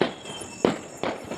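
Firecrackers burst outside a home during Diwali celebrations, two sharp loud cracks spaced about a third of a second apart over a hissing, crackling background, close by, with no talk.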